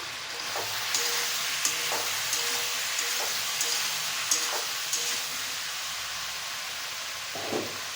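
Curry sautéing in a pan hisses with a continuous, fairly loud sizzle, broken by a few light clinks and stirring knocks.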